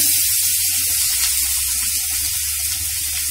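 Cumin and chopped spring onion sautéing in a hot pan for an eggplant side dish, a steady close hiss and sizzle with faint crackles throughout, no voice.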